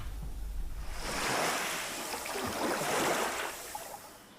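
Atlantic Ocean surf rolling onto the coast at Bundoran, Ireland, on a calm summer day: a steady wash of breaking waves swelling and fading twice, with a low rumble of wind across the microphone and no voices.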